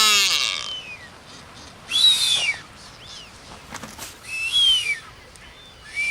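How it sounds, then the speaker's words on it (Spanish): Blue-footed boobies on the Ecuador coast give clear high whistling calls in their mating season, several separate sliding whistles spaced a second or two apart against a quiet background. "estos piqueros de patas azules emiten sus silbidos característicos al empezar el celo."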